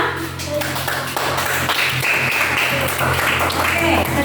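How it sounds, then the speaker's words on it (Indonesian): A classroom of students applauds a group that has just finished presenting, steady clapping spread across the room with voices mixed in throughout. "sekarang mari kita beri tepuk tangan kepada teman kita"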